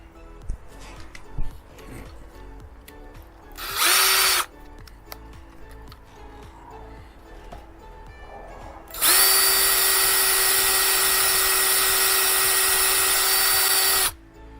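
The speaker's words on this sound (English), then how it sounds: "Now I'm going to get a smaller drill bit to make a pilot hole for the screw in the plywood." A power drill bores a pilot hole in plywood in two bursts: a short whine lasting about half a second, then a loud, steady high whine running about five seconds. Faint handling clicks fill the gaps between them.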